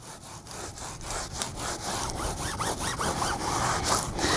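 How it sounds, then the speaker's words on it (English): Adam's Polishes pumpkin spice detailing product being rubbed onto a car by hand, a close rhythmic scrubbing and swishing repeated in quick back-and-forth strokes with no talking. "Let's go ahead and rub it in."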